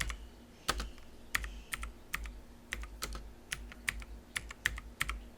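A computer keyboard is typed on in short irregular bursts of crisp key clicks, close and moderately quiet over a faint steady background hum.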